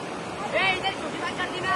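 A flowing river rushes and washes steadily nearby, mixed with wind buffeting the microphone, while people talk over the water.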